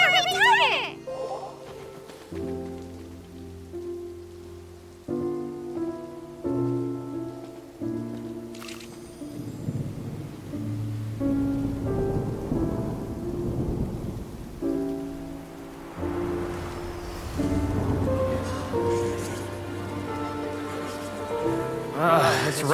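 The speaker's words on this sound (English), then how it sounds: "It's raining!" Rain falling in the video game Genshin Impact, with a steady wash of rainfall and rumbling thunder running beneath game music and speaking voices throughout.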